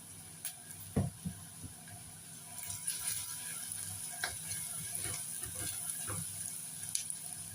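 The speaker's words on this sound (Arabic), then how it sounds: "قبل معايا البصلايه كده" Onion with a pinch of salt sizzles softly in a pan while a spoon stirs it, giving scattered scraping knocks over a faint steady fry, quiet and close.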